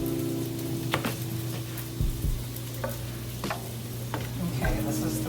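Chorizo sizzles steadily in a pan, with a spoon scraping and stirring through it at irregular intervals, close and moderately quiet with no talking.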